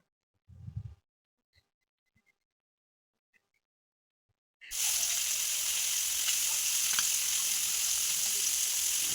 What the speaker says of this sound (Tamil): நம்ம எல்லா மீனையும் ஒரே டைமிங்லேயே தோசைக்கல்லையே ஃப்ரை பண்ணி எடுத்துடலாம்.